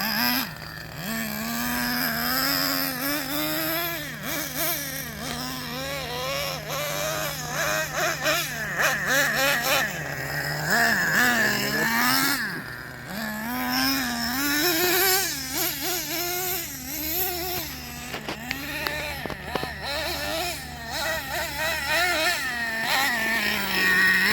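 Small Traxxas Revo 3.3 nitro RC truck engine revving as it warms up after a fresh rebuild, a high buzzing whine that rises and falls in repeated throttle blips, close and loud throughout.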